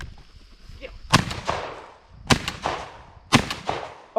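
Shotgun blasts from pigeon hunting at abandoned silos, three sharp, loud reports spaced about a second apart, each with a short echoing tail, with brief voices between them.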